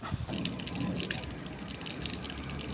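Water gushes steadily from a pipe for washing picked fruit, a constant close broadband rush with faint background sounds.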